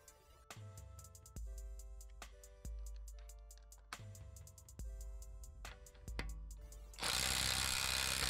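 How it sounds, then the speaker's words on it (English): A Milwaukee 2656-20 brushed impact driver works loose a bolt torqued to 110 foot-pounds. Several short bursts of motor whine and hammering come close up and separated by pauses, ending in a long, loud continuous rattle. "now I'm going to test to see if the brush impact driver will be able to remove it."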